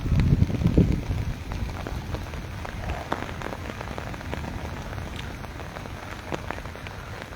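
A torrential downpour in Taunsa Sharif drums loudly and steadily on surfaces, with a dense patter of close drops throughout.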